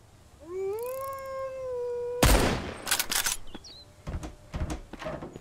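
A sniper rifle fires in the survival game Mist Survival: one sharp, loud shot cracks out after a long, wailing cry, and a few more blasts and clatters follow.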